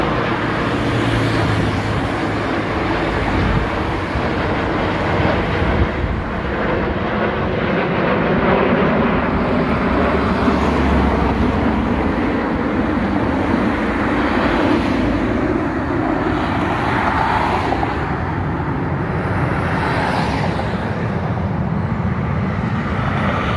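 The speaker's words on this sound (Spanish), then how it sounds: "Miren qué bonitos esos aviones, como se ve aquí en el aeropuerto internacional." Airplanes at an international airport in El Salvador produce a steady, loud roar of jet engines mixed with broad traffic-like rumble, continuous and fairly near throughout, with no talking.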